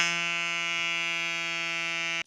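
Electric mini air compressor bike pump running with a steady, piercing high-pitched whine and buzzy harmonics, loud and unchanging, cutting off abruptly at the end.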